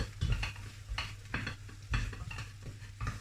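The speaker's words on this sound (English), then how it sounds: "So I'll mix that around, let it all mix up." Haggis splashed with whisky is stirred around a hot pan, with a spoon scraping and knocking in uneven strokes over a soft sizzle, close and fairly loud.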